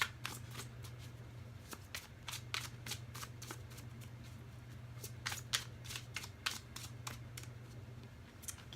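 Tarot and oracle cards are shuffled close up in a quiet room, giving repeated crisp riffling flicks and soft slaps in an irregular rhythm over a low steady hum.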